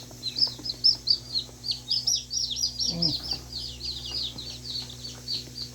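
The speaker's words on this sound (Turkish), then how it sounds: "Bunlar hepsi köy tavuğu." Newly hatched village chicken chicks, fresh from the incubator, peep in a rapid, continuous high chorus close by, with a brief lower cluck from an older bird midway.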